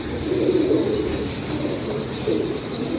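Domestic pigeons kept for pigeon flying in Punjab coo in low, soft rolling phrases, two clear bouts over a steady background hum, with no talking.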